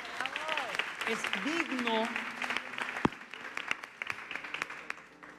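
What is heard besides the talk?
studio audience applause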